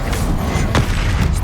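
A fiery blast spell in Hogwarts Legacy gameplay booms and crackles in a loud, dense burst amid continuous game noise, with a sharper hit near the middle.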